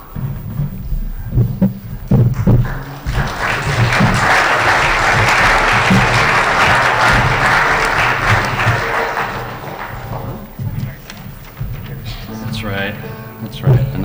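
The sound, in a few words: audience applause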